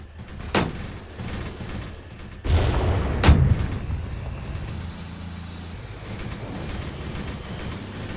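Artillery fire in the Graviteam Tactics war game, set in a 1986 Cold War battle in Africa during the SADF's Operation Moduler: three sharp booming shots about a second apart, followed by a low rumbling background and no voices.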